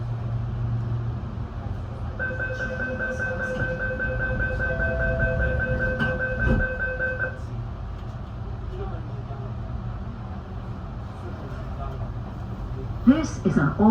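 A Sydney train at Chatswood station closes its doors and pulls away: a steady multi-tone door chime, a sharp thud of doors shutting, then low rumbling motor hum as the carriage departs, with recorded announcements and talk over it.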